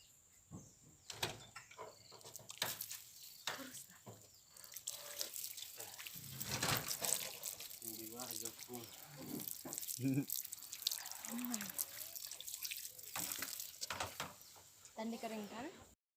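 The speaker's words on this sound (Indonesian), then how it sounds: "saya akan melakukan cuci tangan setelah siap melakukan sterilisasi" Tap water runs and drips into a sink during handwashing after sterilisation in an infection-prevention procedure, a steady splashing wash that continues throughout with a voice speaking over it at times.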